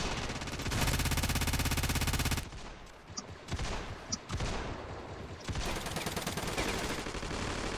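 A Lewis-style machine gun in the shooter game Ravenfield fires in long, dense automatic bursts, loud and close, with a short pause and scattered shots before the sustained fire resumes.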